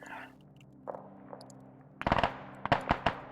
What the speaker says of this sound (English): Now they're starting to fire.